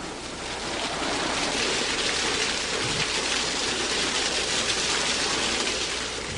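Water running hard from a safety shower, a loud, dense, steady rushing spray that continues unbroken, with no talking.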